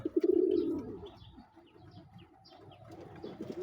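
Pigeons at a nest where eggs are being laid give soft, low cooing close by, a strong burst at first followed by quieter, broken coos and small rustles.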